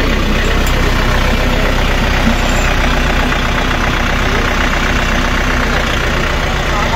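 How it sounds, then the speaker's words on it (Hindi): A tractor engine runs at a steady loud drone close by, with no talk over it. "बिना क्लच दबाए L1 गियर पे एक बंदा यहीं से नीचे आपके सामने खड़े होके फ्रंट और रिवर्स करेगा इस ट्रैक्टर"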